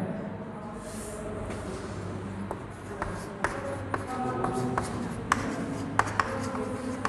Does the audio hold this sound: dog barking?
no